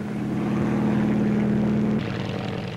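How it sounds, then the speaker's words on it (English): A Saunders-Roe Skeeter two-seater helicopter flies at the 1952 Farnborough air show, giving a steady, fairly loud engine and rotor drone with a constant low hum and no talk. "The Skeeter helicopter is a two-seater made by Saunders Row."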